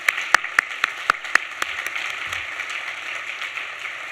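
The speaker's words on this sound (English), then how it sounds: "can we give one more applause for him for his leadership and what they do here?" Applause at a conference keynote, beginning with a few loud, sharp individual claps close by and settling into softer, sparse clapping from the audience.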